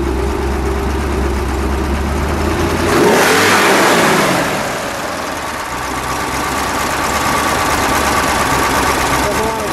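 A 1970 Plymouth Cuda with a 426 Hemi V8 kicks down and revs hard for about a second, then falls back to a steady loud idle. The engine is close and no voices are heard over it.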